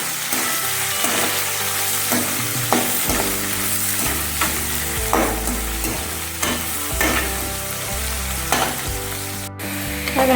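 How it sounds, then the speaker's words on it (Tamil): Onions, curry leaves and green chillies sauté in hot oil for a peas kurma, a steady close sizzle broken by repeated scraping stirs of the spoon against the pan, with no voices. "பச்சை மிளகாய் எண்ணெயில் பொரிஞ்சதுக்கப்புறம் கருவேப்பிலையும் வெங்காயம் போட்டு நல்லா வதக்கிக்கலாம்"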